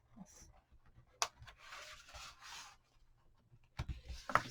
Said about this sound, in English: Now what I'm going to do is I'm going to actually fold this paper.